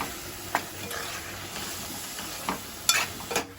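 Chicken with coriander powder, chicken masala and garam masala stirred in a pan, a soft steady frying sizzle broken by a few light scrapes and taps of a spoon.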